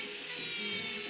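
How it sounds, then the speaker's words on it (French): Electric sander set to speed 20 stripping paint, a steady high-pitched whirring grind that holds constant for about a second. "je mets ma ponceuse sur 20"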